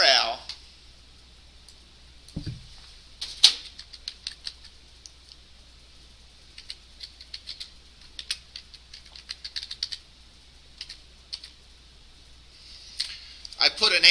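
A URL is typed on a computer keyboard during a client/server scripting class, with scattered quick key clicks and short bursts of taps, close but fairly faint, plus a couple of louder knocks and a faint voice.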